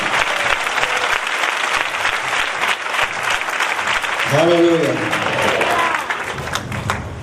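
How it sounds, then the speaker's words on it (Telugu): A church congregation at a Christmas gospel meeting applauds loudly and steadily for several seconds, with a voice calling out partway through. "అందరూ బాగా చప్పట్లతో దేవుని కనపరచండి"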